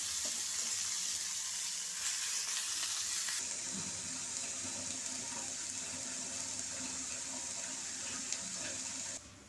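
Loud continuous sizzling as vegetable pieces fry in a pan with tempering, hissing strongly at first and then settling to a slightly softer steady crackle.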